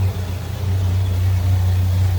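1973 Ford Thunderbird with a 429 four-barrel V8 idling smoothly, a steady deep low hum and rumble heard close by, even and continuous without revving.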